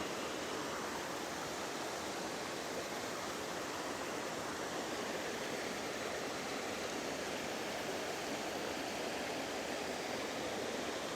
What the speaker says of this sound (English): I can hear the waterfall, like I'm close.